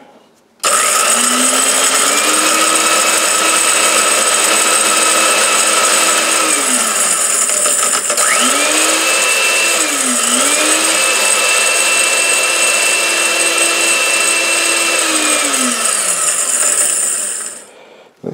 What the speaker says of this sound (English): It's now in my ancient blender.